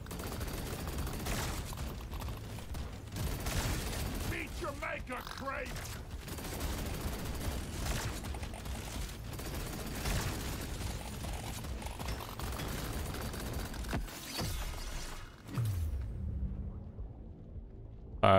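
Rapid autocannon fire from the Thunderhead in Deep Rock Galactic: Survivor, a dense, continuous stream of shots and bursting bugs that stays loud throughout, mixed with game effects before cutting out near the end.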